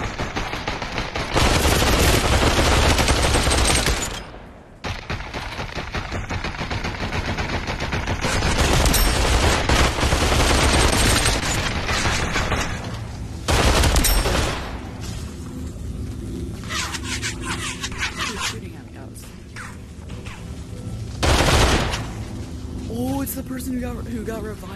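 Gunfire in the VR battle royale game Population: One, Phoenix Royale mode, comes as loud bursts of rapid automatic shots and booms that alternate with quieter gaps. A player's voice is heard in places.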